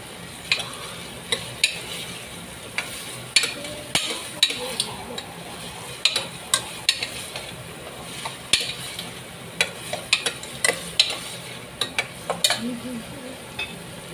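Mixed vegetables for pav bhaji are stirred and sautéed in a pan: repeated sharp spoon scrapes and taps over a low, constant sizzle, with no talking.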